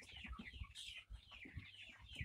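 A Jamaican game fowl rooster clucks close by, a string of short, throaty clucks and squawks in uneven rhythm, fairly faint and with no speech.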